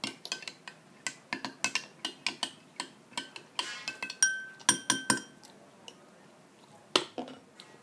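A spoon clinks repeatedly against a glass while stirring chocolate milk, giving a steady run of bright, close metallic taps with a few louder strikes and short pauses.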